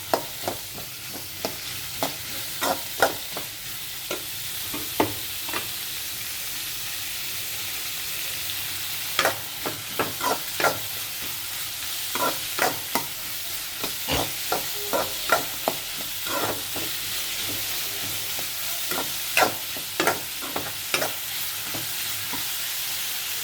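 Onions sautéing in a pan, a continuous close sizzle punctuated by frequent rhythmic spatula scrapes and taps in bursts throughout.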